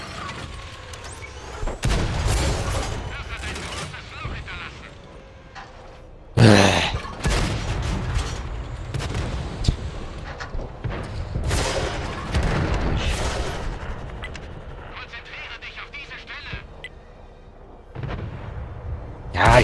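Tank cannon fire in a tank video game sounds as repeated heavy booms and blasts with mechanical rumble between them. Someone talks over parts of the battle.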